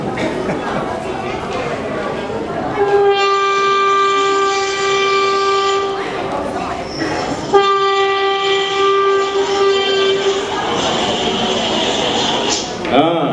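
A train sound effect plays during a church fellowship Christmas skit in Abu Dhabi, with sustained horn-like harmonic tones sounding twice over rolling rail noise, loud and close, with voices talking around it.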